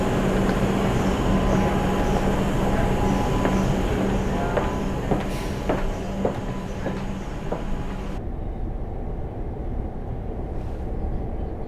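A Melbourne suburban train rumbles and clatters steadily nearby at a station platform with rhythmic clicking from the wheels, then the sound drops off sharply as it pulls away.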